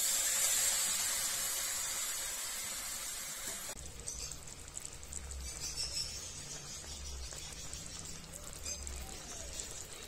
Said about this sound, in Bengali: এবার চিংড়ি মাছটা ভেজে থাঁতলে নেব লাউয়ের সাথে।